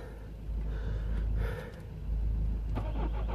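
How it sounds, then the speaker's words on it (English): A Peugeot Citroën car engine cranks and then fires after a new body control module and immobiliser key are programmed, a starter whirr that catches into a steady, close idle, with a short rise partway through. "I'm now ready to attempt to start the engine"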